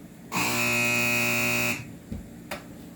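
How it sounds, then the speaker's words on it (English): A loud, steady electronic burglar alarm in a garage, triggered by a door opening, buzzes for about a second and a half, then cuts off, followed by a couple of faint clicks and knocks. "it's set up to when this door opens, the alarm goes off."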